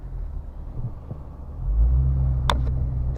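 Low engine rumble from a Lexus RC F in Sport Plus mode, swelling louder as it pulls away, with a brief sharp click partway through, heard from inside the car.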